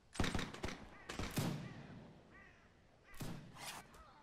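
Musket volleys crack out in the Mount&Blade battle, two sharp bursts of overlapping shots close together, a short lull with a faint thump, then another ragged volley near the end.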